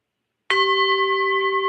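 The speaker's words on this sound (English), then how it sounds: "let's ring the bell" A single bell is struck once and rings on with a clear, sustained tone that slowly fades, loud and close after a moment of silence.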